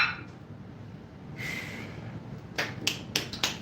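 Hands clap in a leg day gym workout, a few sharp close claps grouped near the end after a stretch of quiet breathing.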